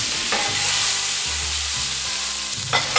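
Ground beef hits a smoking hot pan and fries with a loud, bright, steady sizzle, with soft low knocks of the pan and utensil underneath, heard up close without speech.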